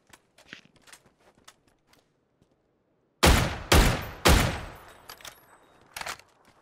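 Sniper-style gunfire in PUBG Battlegrounds: three loud, sharp shots in quick succession, each with a ringing decay, then a fourth quieter shot, after faint footsteps and small clicks.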